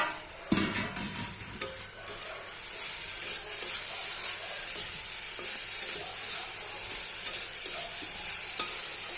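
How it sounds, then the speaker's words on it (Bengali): Sweet pumpkin cooking with shrimp and sugar in a pan, stirred with a few sharp scrapes at the start, then a loud continuous sizzle and hiss with occasional light clinks. "এবার নেড়ে দেবো"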